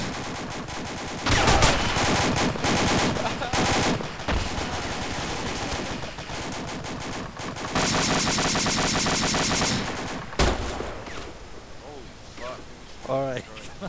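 Loud, sustained machine-gun bursts rattle through a firefight in the video game ArmA 2. The rapid fire keeps going with short breaks, and players talk over the gunfire.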